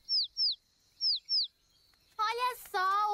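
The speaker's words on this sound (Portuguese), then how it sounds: "Mas ele não está piando alto o bastante." A baby bird in a children's cartoon chirps four short, bright descending peeps in two pairs, then gives a longer, louder warbling cry, alone with no talk.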